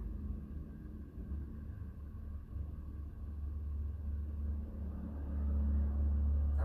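Low, steady rumble of passing road traffic that swells toward the end, continuous and moderately close with no voices.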